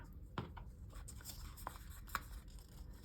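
Quiet snipping of decorative scrapbooking scissors along paper edges and crisp paper rustling come in a few short bursts, close by, with soft scraping between cuts.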